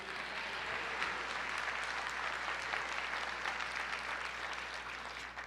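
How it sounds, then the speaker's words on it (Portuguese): A church congregation applauds in worship, dense sustained clapping from many hands that stays even and full throughout, without voices over it. "Aplauda ao Senhor"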